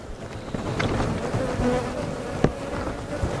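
A dense swarm of honey bees hums continuously at a hive, close and steady, with individual buzzes passing by the microphone.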